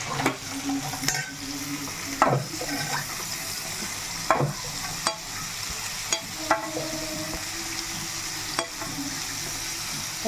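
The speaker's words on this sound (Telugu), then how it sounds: "ఉల్లిపాయ ముక్కలు వేసేస్తున్నాం" Chopped onions frying in oil in a pan give a steady close sizzle, broken by periodic scraping knocks of a spoon stirring them, with no voices.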